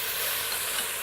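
A pot of haleem being stirred, a steady broadband scraping and bubbling hiss that holds evenly through a short stretch with no voices.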